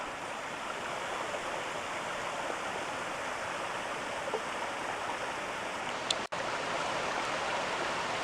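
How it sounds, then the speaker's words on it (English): A low-flowing waterfall roars steadily, a broad continuous rush of water heard at moderate distance, with a brief click near the end and no talking. "And over there's the waterfall."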